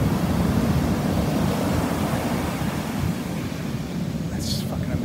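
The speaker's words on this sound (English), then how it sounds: "And now the water's like washing around my legs." Ocean surf washing around someone's legs in shallow water at a beach, pulling sand from under their feet; a steady, loud, broadband wash of moving water with wind noise across the microphone throughout.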